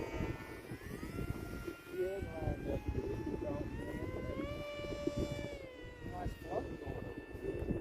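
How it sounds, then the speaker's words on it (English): A Hobby Zone Aero Scout RC airplane flies in high wind, its small electric motor whining in rising and falling tones at moderate distance under gusty wind noise and people talking nearby. "Oh, that plane don't like to come down."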